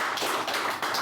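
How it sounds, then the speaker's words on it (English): Applause from an audience at a live request show, a short burst of dense, steady clapping with no voices over it. "Big applause for that."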